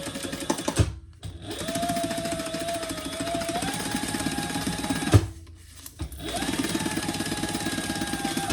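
A sewing machine stitching the sides of a fabric bag closed, close and loud rapid mechanical chattering in two long runs separated by a brief stop to reposition.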